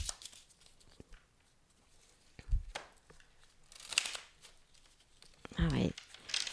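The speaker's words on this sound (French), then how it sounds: "comme il est tout neuf, il a du mal" A brand new deck of cards is shuffled by hand in short, stiff bursts of riffling and snapping, separated by quiet pauses, close to the listener, with a voice talking softly in the background.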